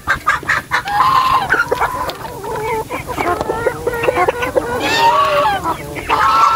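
Hens cluck loudly and busily at a market day, with overlapping squawks and fowl calls filling the whole stretch, close and continuous.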